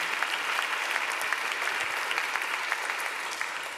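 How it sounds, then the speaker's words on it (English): Sustained, dense applause from an audience inside Beebe Memorial Cathedral during a public dialogue event, a steady wash of many hands clapping with no break for the whole stretch. "Round of applause for the pastor and for Beebe Memorial Cathedral for hosting us here today."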